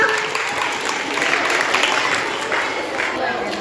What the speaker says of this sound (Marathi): शाबास, टाळ्या वाजवा